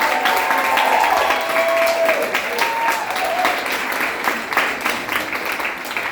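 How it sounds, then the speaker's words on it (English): Wedding guests applaud the couple at a reception, a steady, dense wash of clapping from a nearby crowd that holds for about six seconds with faint voices mixed in. "can we have a round of applause for them, please?"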